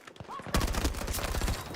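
Rapid bursts of gunfire in the shooter game Battlefield 6, a loud sustained fusillade of closely spaced shots after a brief quieter lead-in, with faint voice traces mixed in.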